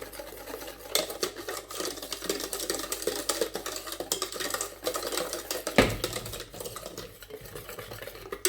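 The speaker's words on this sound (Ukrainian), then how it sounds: "Перемішуємо до однорідності, щоб не було ніяких комочків у нас." Coconut custard cream being stirred until smooth in a pot, a steady busy scraping and swishing of a utensil against the bowl, continuous and close, with a sharp knock partway through and no talking.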